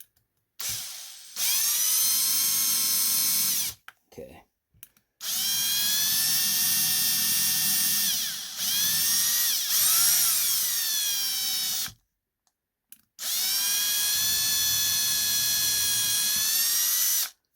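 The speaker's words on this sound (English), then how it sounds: "I'm going to let the weight of the drill hopefully drill this out" Power drill grinds out soft metal on a Redcat Kaiju EXT RC truck in several long, loud whining bursts whose pitch wavers as the bit bites, with brief gaps between runs and a single short spoken word.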